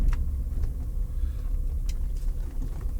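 Rolls-Royce car driving over a rough road, heard from inside as a continuous low rumble of tyres and suspension with small bumps and knocks, steady and close, no voices.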